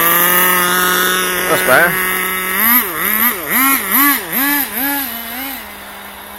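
A nitro RC car engine idles with a steady buzzing drone, then revs up and down in a series of rising and falling whines before settling back to idle, close and loud, with a brief spoken remark.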